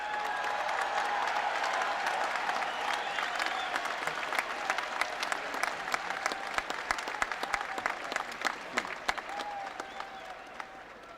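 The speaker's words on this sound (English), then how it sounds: "The cheering was a little disconcerting." Sustained applause and cheering from West Point cadets at a class of '97 graduation ceremony, a dense, steady wash of clapping heard from a distance that slowly thins toward the end.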